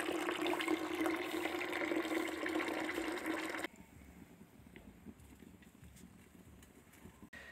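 Water splashing and pouring in a steady rush as someone bathes with water heated outdoors, loud for about four seconds and then giving way to quieter room noise with faint knocks.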